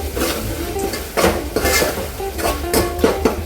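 Dal is tipped into a pot of softened, cooked tomatoes for a quick Gujarati dal, with close metal clatter of a utensil against the pot and a soft sizzle underneath, busy and fairly loud throughout.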